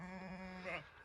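A sheep bleats in a farm alleyway on a ranch, a single wavering, nasal cry that swells near the end, fairly close and alone.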